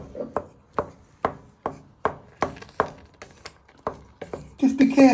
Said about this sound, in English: we're just breaking them all down, giving it a good stir. So just breaking them with the wooden spoon.